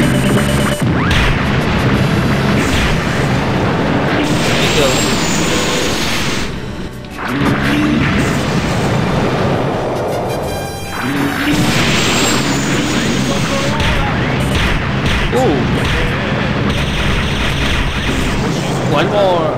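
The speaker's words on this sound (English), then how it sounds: "Oh, another missile!" Missile explosions and booming blasts in the SDF Macross Valkyrie Overdrive XP video game, loud and repeated in a dense cacophony, with an excited player's voice talking over the game audio.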